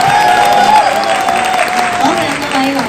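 Wedding guests applaud steadily at the start of a wedding party at a venue in Sha Tin, Hong Kong. The loud, dense clapping runs throughout, with background music and a voice speaking over it.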